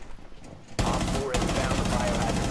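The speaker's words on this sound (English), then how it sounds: "I can hear the bullets coming." Rapid automatic gunfire in a video game shooter suddenly bursts in and continues loud and sustained, dense overlapping shots filling the clip after a quieter start.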